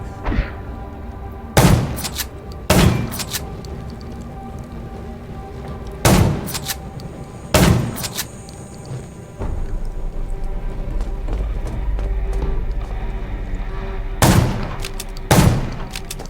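Gunshots in the survival game Undawn ring out as loud, isolated single shots spaced irregularly across the stretch, each a sharp crack with a short decay over low background ambience.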